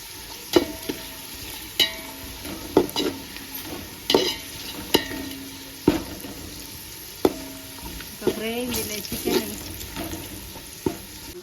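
Masala spices for chicken donne biryani frying in a pan, a steady sizzle broken by repeated sharp scrapes and clanks of a stirring spoon against the metal, close and fairly loud with no talking.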